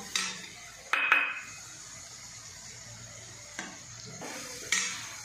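Pav bhaji masala being stirred and sautéed in a pan, with a few scraping spoon strokes against the metal and a faint steady sizzle between them, fairly close with no voices.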